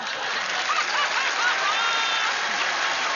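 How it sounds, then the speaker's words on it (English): A small group of people claps in a steady, continuous stream, fairly close and even in loudness, with faint chuckles mixed in. "Don't clap, Matt."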